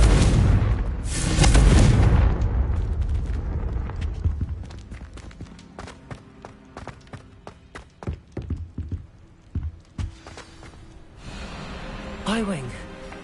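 A fiery Confringo spell blast in Hogwarts Legacy: a loud booming burst up front, then a scatter of sharp thuds and impacts that thin out, with a brief whoosh near the end.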